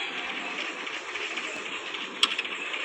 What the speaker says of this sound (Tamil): வீட்டுக்குள்ளேயே ஒரு ட்ரெயின்.